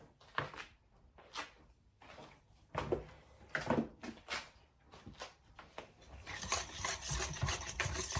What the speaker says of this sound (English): just mix that together